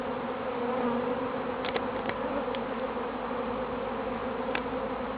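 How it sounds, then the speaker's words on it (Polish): A bee carrying pollen buzzes steadily nearby with a soft, continuous drone over quiet, sunny outdoor background. "od czasu do czasu się pszczoła pojawia z pyłkiem"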